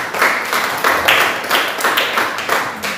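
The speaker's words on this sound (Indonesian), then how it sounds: "Tepuk tangan yang luar biasa." A church audience claps in a strong, rhythmic unison beat, each hand-clap burst landing roughly every half second in a loud, regular pattern, with no talking over it.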